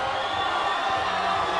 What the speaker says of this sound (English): there's a lot of excitement in the crowd